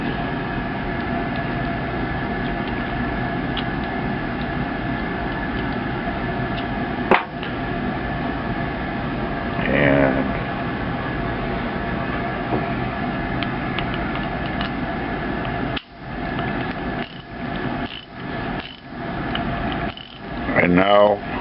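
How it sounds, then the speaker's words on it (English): An Armstrong 1/2-inch drive industrial ratchet clicks close up, with scattered handling knocks and then bursts of rapid pawl ratcheting in quick runs near the end. "now it's a good, usable 1/2-inch drive Armstrong industrial ratchet"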